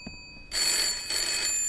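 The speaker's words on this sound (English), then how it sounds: "Hello, cellular phone? Ring, ring, ring." Telephone ringing in the horror video game Layers of Fear, a loud, shrill electric bell trill that starts abruptly and rings in two sustained bursts, close up, with no talking.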